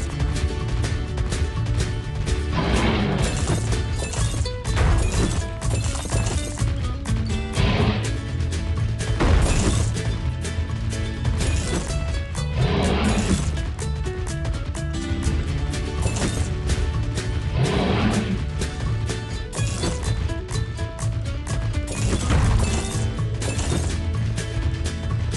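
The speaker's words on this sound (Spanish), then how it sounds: "Puedes romper las rocas para encontrar más." Rocks being smashed open to uncover crystals on a volcano level of a PAW Patrol rescue video game, with repeated cracking hits over a steady, loud game music bed throughout.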